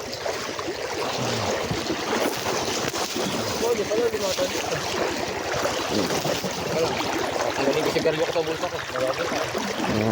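A strong river current rushing during a crossing, a steady loud wash of churning water close by, with people talking over it throughout.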